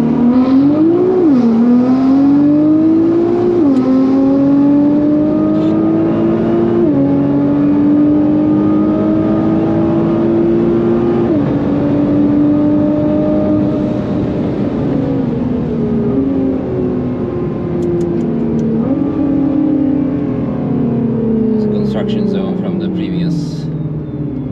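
A 1000hp Nissan GT-R at the Nürburgring launches hard and accelerates through several gears, its loud engine rising in pitch and dropping at each shift, heard from inside the car with light talk.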